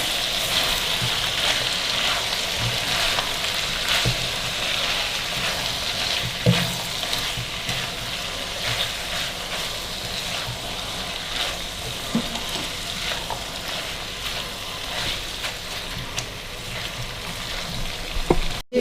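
Julienne-cut onions and tomatoes sizzle loudly in a pan as they are stirred, a dense, continuous frying hiss with occasional scraping knocks, close and steady throughout.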